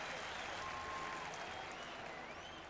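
Tampa Bay Buccaneers fans cheer and applaud throughout an NFL stadium against the St. Louis Cardinals, a steady, distant crowd roar that holds at an even level.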